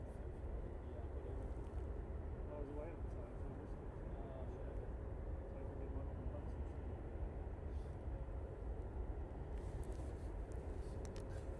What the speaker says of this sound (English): there's a beautiful Indigo going past the Runway Visitor Park here at Manchester